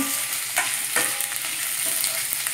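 Onions frying in a pan for a Hyderabadi-style mutton curry, a bright steady sizzle with intermittent stirring scrapes close by and no talking.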